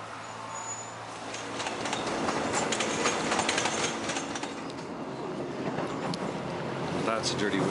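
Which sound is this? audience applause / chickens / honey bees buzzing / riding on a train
riding on a train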